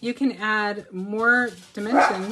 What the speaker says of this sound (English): Excuse my dogs. My dogs say hello.